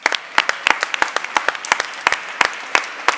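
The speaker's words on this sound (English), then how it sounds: "So big round of applause for all 4 teams." Applause from a pitch-competition audience for four startup teams: a modest number of distinct, crisp claps in a loose uneven rhythm, fairly close and clear.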